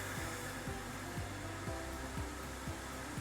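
Warm air purges steadily from the drain boxes of a Semitool 880-S/870-S spin rinse dryer, a constant loud whoosh with a faint repeating mechanical tick about every half second.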